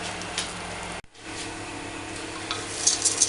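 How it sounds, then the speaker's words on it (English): Rice grains toasting in hot oil in a pan for artichoke risotto, a steady close sizzle with soft stirring scrapes, a brief dropout near the start, then continuous frying. "So you really want to move the rice around so it coats every grain of rice, gets some oil on it, toast."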